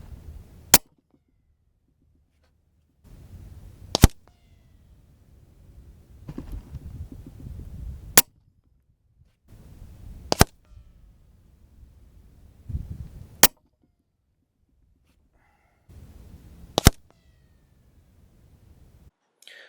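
An Edgun Leshiy air rifle fires pellets through chronographs, six sharp, loud cracks spaced a few seconds apart, each preceded by a short, low mechanical rustle of handling, with quiet gaps between.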